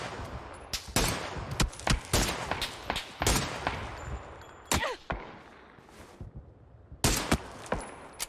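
Weapon fire in PUBG: sharp, loud gunshots come in clusters and single cracks, with quieter gaps and one long lull before a final burst, no voice over them.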